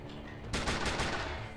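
Burst of gunfire from the turn-based shooter game Steamworld Heist, a sudden loud volley of several rapid cracks that ends in a sustained rattling wash.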